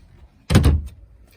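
A closet door in a 2006 Winnebago Voyage motorhome gives a single short, close thud with a brief rattle, then quiet.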